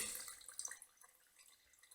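Liquid is poured into a jar of sugar and yeast sediment while making homemade wine, giving faint, close trickling and dripping sounds that fade to a soft splash.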